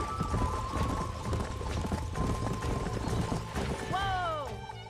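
Horses trot with busy overlapping hoof clip-clops in the Red Dead Redemption video game, a steady cadence throughout, with a brief whinny-like cry near the end.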